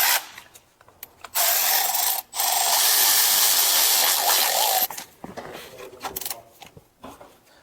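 Idler pulleys being tightened down on a Mercedes M276 engine during drive belt work, with a loud sustained power-tool whir in two long bursts, bracketed by quieter ratcheting clicks and metallic handling noises.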